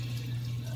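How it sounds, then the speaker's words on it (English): Hot water runs from a tap in a steady, unbroken stream at close range for a brief moment, with a low constant hum under the flow. "I'm going to run it under hot water."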